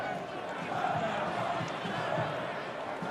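A football stadium crowd at an A-League match between Perth Glory and Melbourne City roars in a sustained, distant wash, holding steady throughout without distinct peaks.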